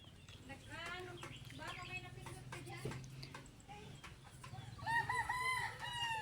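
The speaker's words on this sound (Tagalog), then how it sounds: "Dami nila din dito ng manok." Chickens and roosters crowing and clucking around a farm, with several harmonic crows rising and falling in overlapping bursts, the loudest near the end, while people talk in the background.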